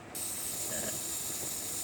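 Olympus OM-2 film camera self-timer running after its lever is flipped, a steady close mechanical whir with fine ratcheting texture that starts abruptly and holds evenly for under two seconds.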